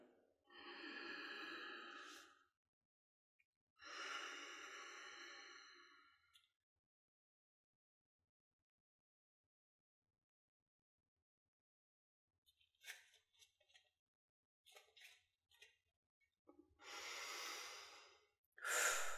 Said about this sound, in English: We're going to inhale.